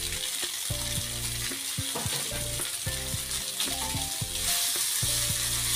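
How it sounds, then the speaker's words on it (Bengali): Boiled noodles fry loudly in a hot pan with green chilies, a dense close sizzle broken by repeated scraping and stirring strokes, with no talk. "এগুলো নুডলসটাকে আমি ভালো করে ভেজে নেব"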